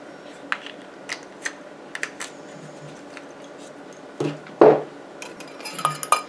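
Hair elixir ingredients being stirred in a small container, giving scattered light clinks and taps with a louder knock near the end, close and fairly quiet, with no voices.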